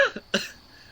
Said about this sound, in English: you're coughing up all the old cigarette phlegm